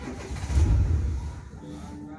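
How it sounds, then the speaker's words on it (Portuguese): A Renault Sandero Stepway engine cranks briefly with a low churning rumble that fades without catching, as a voice speaks nearby. "O carro não liga."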